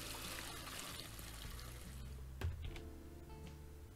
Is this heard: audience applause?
no